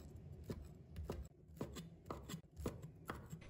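A knife chops peeled shrimp into small pieces on a cutting board, a steady series of close, sharp chops about two-thirds of a second apart, while a nearby appliance hums in the background.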